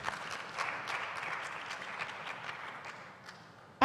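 An audience at a women's conference in Lusaka, Zambia gives steady, sparse applause, moderately faint and spread out, continuing for a few seconds with no talk over it.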